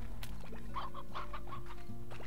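A chicken in the video game Slime Rancher gives a quick series of close, clear clucks over a steady low game hum.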